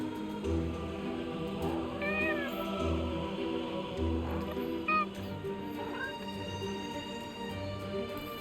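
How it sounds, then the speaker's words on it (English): A cat in the video game Forspoken gives a few short, faint meows over a steady low rumbling game ambience. "Is that a cat?"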